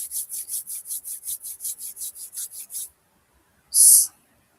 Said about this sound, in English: So let's rub our hands together.